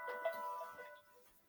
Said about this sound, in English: Yep, forgot to shut the phone off